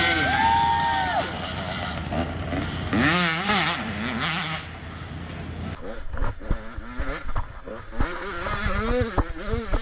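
Off-road racing vehicle engine during a lap of a 2023 GNCC Tiger Run race in the YXC1 class, loud and close, with rising and falling revs, gear changes and bursts of acceleration through the whole stretch.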